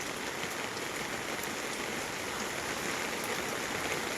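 Floodwater rushes past with a strong current after a dawn flood that reached a house, a steady broadband roar of flowing water close by, continuous and unbroken with no voices.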